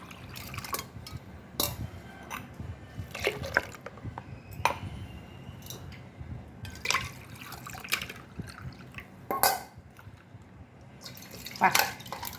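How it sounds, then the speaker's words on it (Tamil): Ice water pours and trickles into juice in uneven bursts, with clinks and splashes scattered throughout and occasional background voices. "இப்போ ஐஸ் தண்ணி விட்டுக்குவோம்"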